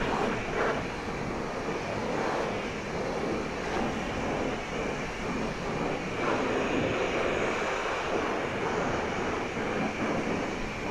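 High pressure washer spraying soap onto a Ninja 400 motorcycle, a steady loud broadband hiss of water jet lasting throughout, close up with no talking.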